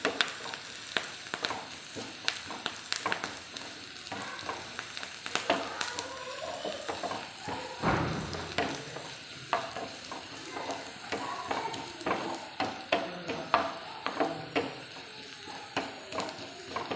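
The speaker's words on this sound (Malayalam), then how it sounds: "ഇനി നമുക്ക് ഒരു 2 വറ്റൽമുളകും ആവശ്യത്തിനുള്ള കറിവേപ്പിലയും കൂടെ നമ്മളിത് അതിനകത്തേക്ക് ഇട്ട് ഒന്ന് മൂപ്പിച്ച്" Dried red chillies and curry leaves fry in hot oil, a steady close sizzle with scattered crackles and spoon stirring throughout, no voices.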